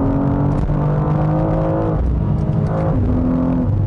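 A 2025 BMW M2, a 480-horsepower two-door coupe, is heard from inside under hard acceleration in a manual-shift mode. Its engine drones loudly and climbs in pitch, with brief dips near two and three seconds as it shifts.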